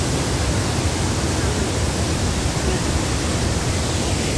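A waterfall in Taiwan gives off a constant, dense, broadband roar of rushing water, steady and loud throughout, with no break and no clear speech.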